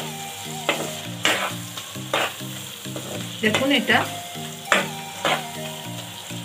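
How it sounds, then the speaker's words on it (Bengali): Onions and spices with Kashmiri chili powder fry in a pan for chicken tehari, a loud close sizzle broken by repeated scraping stirs every second or so, with a voice briefly speaking. "পেঁয়াজ মশলা সব সুন্দর করে ভাজা হয়েছে।"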